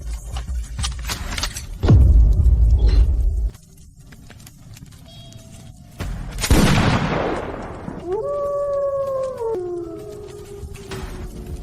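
A sharp loud gunshot with echoing tail in an outdoor setting, followed by engine and whining tones.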